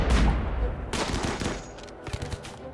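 Gunfire from the RimWorld video game, a Frostpunk-themed colony run: a burst of sharp shots up front, then scattered bursts and single reports at close range, with no talk over them.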